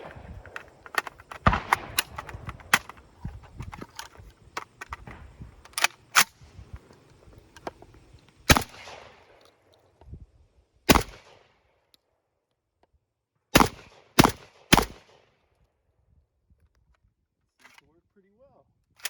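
JTS AK12 M12AK-T1 airsoft gas shotgun firing on its third gas block setting, sharp close pops spaced irregularly, a cluster early then several loud single shots near the end, with quiet gaps between.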